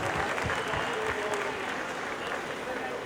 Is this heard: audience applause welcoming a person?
yes